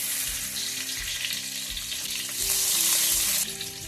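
A small amount of butter sizzling in a hot pan, a close, dense crackling fry that swells louder near the end, with no voices.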